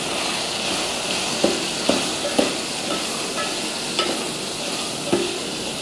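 Pilau rice and masala being stirred in a frying pot, with a steady sizzle throughout and several distinct scraping strokes of the spoon at irregular intervals, close and moderately loud.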